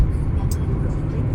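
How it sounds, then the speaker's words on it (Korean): Loud, steady engine roar from a Mercedes E220d diesel coupe under hard kickdown acceleration, with the sound filling the whole short moment without a break. "깊게 밟아서 킥다운을 했고요"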